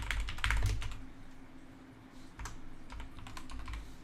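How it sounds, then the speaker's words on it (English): Typing on a computer keyboard while entering data into a database, with a dense burst of keystrokes at the start and a steadier run of close, clear key taps later on. No one speaks. "type in there"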